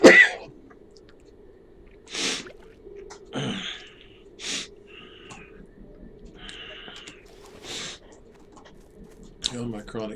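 Several short, sharp coughs and throat-clearing bursts spaced apart over a quiet, steady hum, with someone speaking briefly in between.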